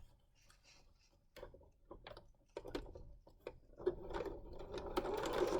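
A sewing machine stitches a fabric pleated mask to hold the pleats in place, a close run of rapid ticking, clicking mechanical noise that builds steadily in loudness, with no talk.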